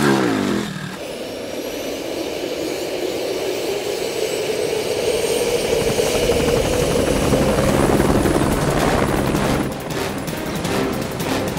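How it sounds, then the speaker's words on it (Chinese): A helicopter roars loudly and close, its rotor and turbine drone rising and holding steady throughout, with no talk over it. "把我直升机调来"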